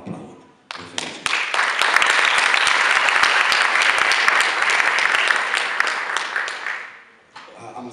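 Dense audience applause fills a hall at a youth theatre festival in Alba Iulia, swelling quickly from scattered claps into a loud, sustained wash, then tapering and cutting off near the end with a voice returning.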